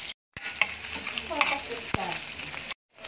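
Ginger sizzles and crackles in reused oil left from frying lechon kawali, with sharp stirring clicks and scrapes between the hisses and brief silent gaps at the start and end.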